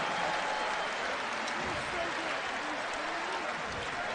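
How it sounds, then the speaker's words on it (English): Basketball arena crowd at an Indiana college game roaring and applauding in a steady, loud, dense wash of cheering that fills the whole stretch, with faint voices shouting through it. "and listen to this crowd."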